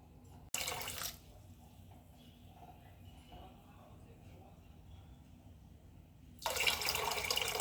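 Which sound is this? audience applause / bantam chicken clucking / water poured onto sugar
water poured onto sugar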